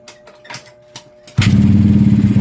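A Yamaha Mio Sporty scooter with a freshly overhauled carburetor and damaged crankcase cranks with a few scattered clicks, then catches and settles into a loud, steady, close putter of idling engine.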